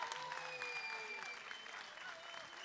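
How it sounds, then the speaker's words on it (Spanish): Brief, fairly faint applause from an audience at a summer festival event in Parral, with a whistle-like tone and a voice briefly overlapping the clapping. "Así que muchas gracias y un aplauso."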